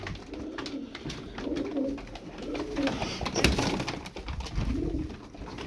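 Tumbler pigeons coo repeatedly in soft, throaty rolls, close by, with light rustling and fluttering in the background.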